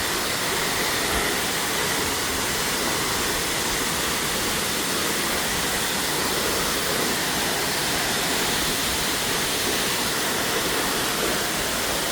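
Kipilas waterfall on a mountain hike roars as a steady, dense rush of falling water, loud and close, broadband and unbroken throughout with no voices.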